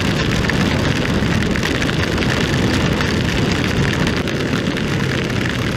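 Heavy rain pours in a dense, loud, steady hiss with a broad roaring wash and no break, while a vehicle travels toward home through the downpour.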